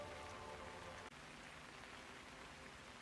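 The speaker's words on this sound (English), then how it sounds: "Look at this rain." Steady rainfall in the video game Hitman 3, Chongqing level, a dense even hiss of rain on surfaces with one brief dip, faint and continuous with no talking.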